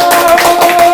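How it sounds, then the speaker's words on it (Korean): A short burst of audience clapping, a brief spatter of hand claps over a steady tone. "박수!"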